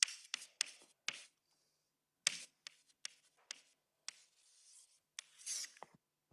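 Chalk taps and scrapes across a blackboard during a physics lecture, coming in short, quiet strokes with pauses between them and no voice over them.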